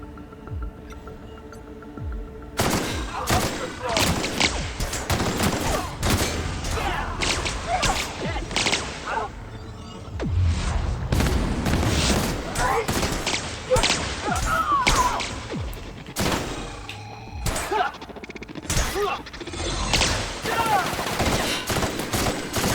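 Rapid volleys of weapon fire in The Outer Worlds, dense loud bursts and sharp cracks running almost nonstop after a brief quieter opening.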